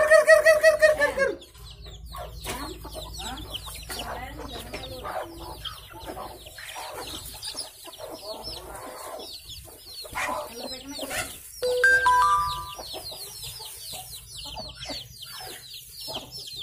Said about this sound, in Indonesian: Ngeplok makanin ayam siang-siang. Ayamnya banyak tuh.